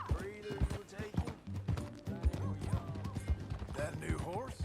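Horse hooves clip-clopping in Red Dead Redemption 2 as riders set off together, steady irregular hoofbeats over a low musical score, with voices talking over them and a brief whinny-like sound near the end.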